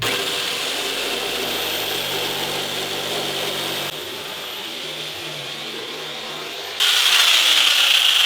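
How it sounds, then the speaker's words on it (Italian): Jigsaw cutting through material for a model mountain frame, a loud continuous buzzing saw that shifts in tone partway through and turns sharper and higher near the end. "fare il taglio col seghetto alternativo"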